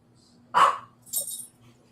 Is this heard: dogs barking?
yes